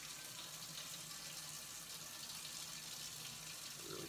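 Water runs steadily from a kitchen tap while hands are washed after handling raw pork for tonkatsu, a continuous close hiss with no speech over it.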